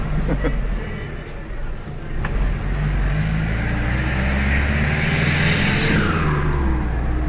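A Nissan Frontier pickup with a loud, rowdy exhaust drives along, its engine droning steadily and close for the whole stretch, with traffic-like road noise around it.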